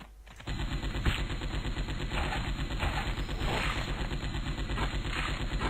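Rapid automatic gunfire from the tower-defense video game Epic Defense, a dense, steady stream of shots running loud and continuous after a brief quiet start, with no talking.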